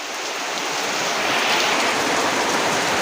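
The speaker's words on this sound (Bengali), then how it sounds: "প্রচন্ড বৃষ্টি প্রচন্ড বৃষ্টি গাছ একদম প্রচন্ড বৃষ্টি" Heavy rain pours down steadily, a dense, loud hiss of drops with no pauses and no voices.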